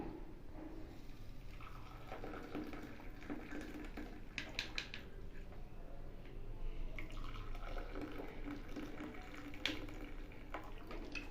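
Masala chai is strained, with a faint stream of liquid pouring and dripping alongside light clinks, low and steady throughout.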